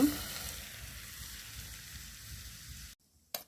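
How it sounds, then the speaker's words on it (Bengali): Hot oil poured little by little over pickle sizzles in a close, steady hiss that cuts off abruptly near the end, followed by a short burst of sound. "তেলটা গরম হয়ে গেছে, এবার আমি অল্প অল্প করে দিয়ে দেব।"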